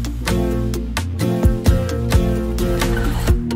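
Layered synths, a low-passed piano and crash cymbals play together in a produced track, steady and loud, with rhythmic cymbal hits marking the beat and no voices.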